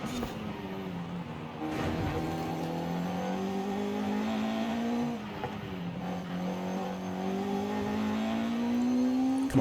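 A tuned Honda Civic A-Class car in a racing video game holds a loud, steady engine drone that climbs in pitch through gear changes, with brief dips between shifts and no voices.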